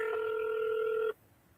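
A telephone placing a call gives one steady electronic tone, about a second long, that stops abruptly and leaves quiet line hiss. Faint and heard alone.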